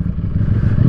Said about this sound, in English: my god, the engine sounds amazing